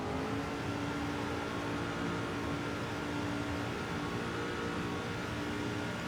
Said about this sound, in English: Get those revs climbing into turn 1.